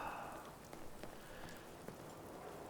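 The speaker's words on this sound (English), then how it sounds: "It's raining." Steady rain patters on a surface in a video game, a soft, even wash of drops with a few faint taps, no talking.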